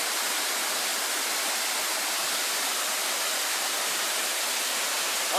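A waterfall at Ventana Canyon pours with a loud, constant broadband rush that stays even and unbroken from start to finish, with no voices heard.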